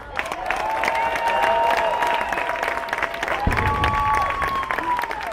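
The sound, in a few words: audience applause at Disneyland celebration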